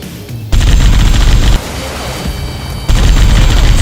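Missile strikes explode in a video game, a series of heavy booming blasts and crackling gunfire-like bursts arriving in several loud waves, with no talking over them.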